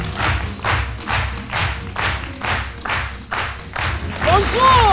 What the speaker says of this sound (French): c'est Madame Diaye, née Isabelle Gondo, que je vous demande d'applaudir très très fort.